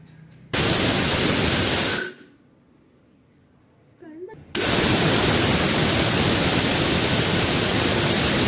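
Rice is ground in an electric grinder for green pea pitha, a loud, close, whooshing whir that cuts off for about two seconds, then starts again and runs steadily.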